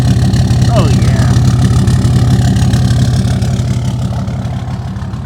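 A Ford F-150 pickup truck engine idles with a deep, steady rumble through the exhaust, close and continuous, gradually easing slightly quieter toward the end.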